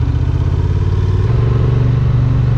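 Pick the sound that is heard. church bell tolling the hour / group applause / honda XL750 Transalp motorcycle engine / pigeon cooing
honda XL750 Transalp motorcycle engine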